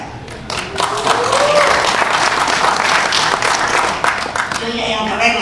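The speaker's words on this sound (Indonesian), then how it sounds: "Tepuk tangannya." Crowd at an Indonesian political party gathering breaking into loud applause, a dense roar of clapping that swells quickly and holds steady, close and full, with some crowd voices mixed in.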